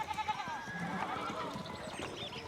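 Sheep bleating in the video game Pentiment, several overlapping wavering calls from a flock, moderately loud, with game dialogue in the background.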